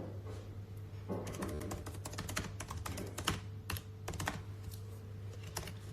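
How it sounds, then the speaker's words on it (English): Close, quiet typing on a computer keyboard in a room with a low steady hum, with irregular bursts of key clicks separated by short pauses. "Sorry, I'm such a slow typer."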